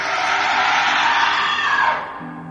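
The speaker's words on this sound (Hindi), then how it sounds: "चीख निकालती है" A witch's ear-splitting shriek in a horror tale, one long loud high scream sustained for about two seconds before cutting off into quieter background.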